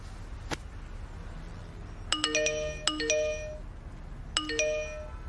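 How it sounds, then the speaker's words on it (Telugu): A new phone chimes with message notification alerts after a SIM card is put in and the phone is switched on. A single ping is followed by three bright, multi-note chime bursts in quick succession against a quiet background. "ఏంటి ఇన్ని మెసేజ్లు వస్తున్నాయి?"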